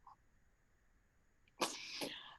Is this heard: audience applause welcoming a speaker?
no